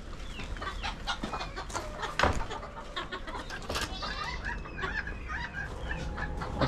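A flock of roosters and hens on a farm clucks and calls continuously at moderate distance, with scattered sharper squawks and a brief louder burst.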